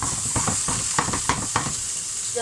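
Chopped garlic sizzles steadily in a hot frying pan while being stirred, with a series of rhythmic scraping strokes over the continuous close frying hiss, no talking.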